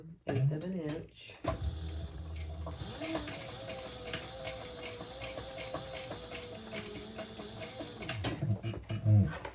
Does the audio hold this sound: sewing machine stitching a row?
yes